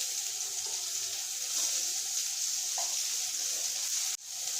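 Patties frying in lard in a pan give a steady, dense sizzle that holds at an even level throughout, with a brief dip near the end.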